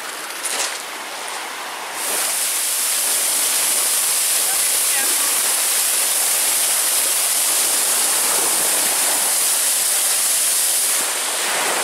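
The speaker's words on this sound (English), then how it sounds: "And the waterfalls will be just over here." Steady, loud rush of falling water from a waterfall on Grand Island, Michigan, on Lake Superior, fills the whole stretch, a dense broadband roar that swells after a quieter opening moment.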